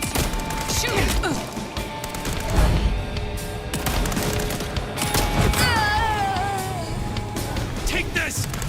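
Gunfire in the video game Vampire: The Masquerade - Bloodlines 2, a dense burst of shots and impacts mixed with game sound effects and music throughout, loud and continuous, with voices talking over it.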